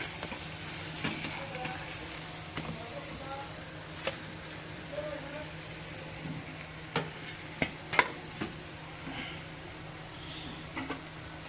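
Halwa (pomfret) fish frying in a pan gives a steady, close sizzle with scattered sharper pops and a few utensil clicks, while faint voices sit in the background.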